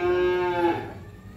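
A single long moo from cattle in the Sapipedia Wonogiri barn, loud and close, holding a steady tone before trailing off into quieter barn ambience.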